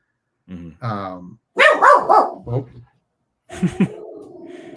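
A dog barks in excited bursts, several sharp close barks separated by short pauses, followed by a lingering whine or yelp, loud and alone.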